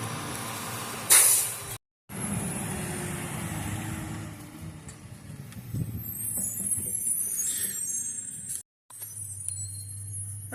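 A garbage truck rumbles nearby outdoors with sharp hissing bursts of air brakes, low engine drone and mechanical clatter, fairly faint overall, with no voices.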